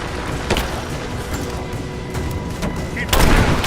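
Gunfire in the Rise of the Tomb Raider video game comes as sharp, loud bursts during a combat firefight in ruins, mixed with shouted voices.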